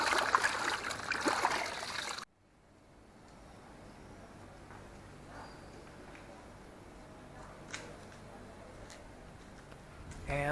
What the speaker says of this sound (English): Wet it in the sea here and put it on.